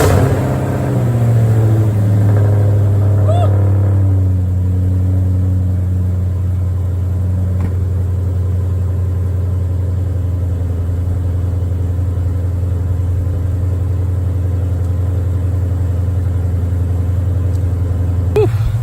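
A Ford GT500 engine running just after an alternator install, a steady, loud low idle that holds evenly throughout, with a brief rev and settle at the start.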